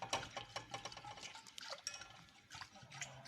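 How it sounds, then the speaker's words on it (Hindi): A utensil stirs flour through melted butter in a pan, giving soft, repeated scraping and light clinking strokes that stay faint and close. "हिलाना है ताकि ये सब आपस में अच्छी तरीके से डिज़ोल्व हो जाए।"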